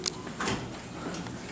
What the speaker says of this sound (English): Door operators are very slow.